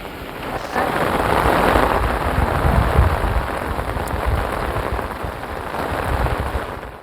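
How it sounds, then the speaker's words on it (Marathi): Heavy monsoon rain pours steadily in Bhandara, Maharashtra, a dense, continuous roar of falling water close by, holding loud for the whole stretch with no voices. "भंडारा जिल्ह्यात मुसळधार पाऊस सुरू आहे"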